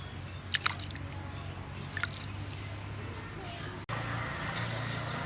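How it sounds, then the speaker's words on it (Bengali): Wet sloshing and dripping as soaked moong lentils are rubbed and rinsed in a bowl of water, close by, with a few sharper splashes early on. "এটাকে আমি কষলে ধুয়ে নিচ্ছি খুব ভালো করে"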